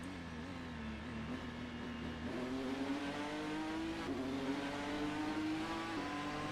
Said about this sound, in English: Quite a nice sound from the Ford GT.